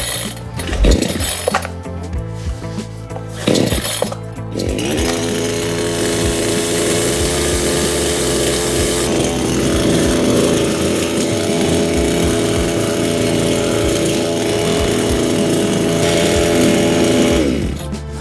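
A PROCRAFT petrol chainsaw runs without the choke, starting with a few short pull-start bursts and then settling into a loud, close, continuous engine roar. The pitch climbs at about nine seconds and drops away near the end.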